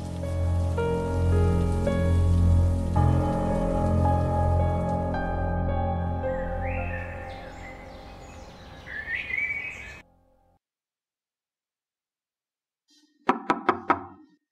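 Rain falls in a steady patter beneath sustained tonal sounds for about ten seconds, then cuts to silence before a quick burst of sharp knocks.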